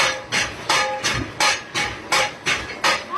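A chili grinding mill running, pounding with heavy, evenly spaced thuds, roughly three per second, loud and close, each blow followed by a short gritty hiss, with no talking.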